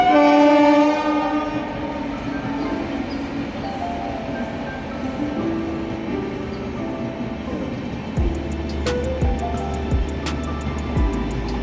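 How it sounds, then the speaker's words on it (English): An ordinary train on an Indian route passing close by opens with a loud horn blast, then a long steady rumble of wagons, with rhythmic clickety-clack of wheels on rail joints toward the end. "See, the train is coming."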